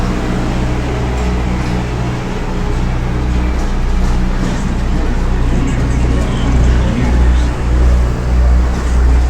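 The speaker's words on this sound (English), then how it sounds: "I'll just wait until we get past this lorry" A lorry rumbles past on the promenade road at Blackpool Pleasure Beach, a loud, continuous low engine drone that swells slightly toward the end while someone speaks beneath it.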